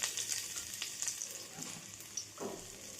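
Ginger dropped into hot oil, giving a faint, steady crackling sizzle with a few soft scrapes and taps, no voices.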